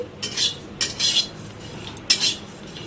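Panch phoron and fennel seeds being dry-roasted in a hot iron wok, heard as a few sharp, close metallic scrapes and rattles of a spatula stirring, spaced by brief quiet gaps.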